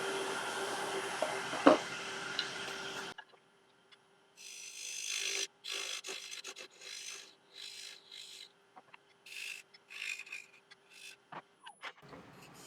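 Wood lathe cutting a recess into a rare piece of African mahogany, a steady close rasping and whirring for the first few seconds, then stopping, followed by a series of intermittent scraping bursts and short gaps.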